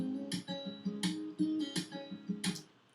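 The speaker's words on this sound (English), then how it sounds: "acoustic, which is double tracked left and right" Double-tracked acoustic guitar strummed in a slow, spacious pattern, with bright strokes recurring about every second over sustained notes, quiet and clean.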